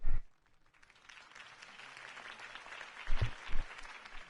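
Crowd applause breaks out in short bursts of clapping in the Telltale Batman game, moderately loud with a brief thud in the middle, no talking.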